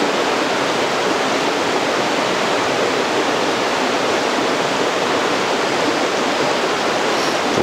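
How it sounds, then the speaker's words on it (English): Waterfall rushing steadily, a loud, unbroken broadband roar of falling water heard up close with no other sounds. "The waterfalls were really cool."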